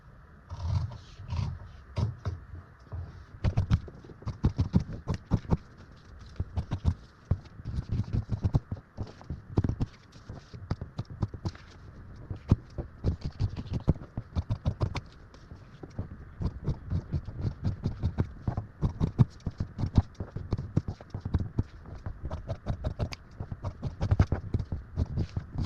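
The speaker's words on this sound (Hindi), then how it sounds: "चलो इसको कटिंग करते हैं।" Scissors cutting fabric for a high-neck princess-cut blouse, producing a long run of steady crisp snips and scratchy rustles with brief pauses.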